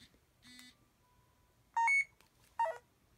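A small currency reader in tone mode emits a few short electronic beeps of differing pitch, separated by brief pauses, close and fairly quiet with no talk.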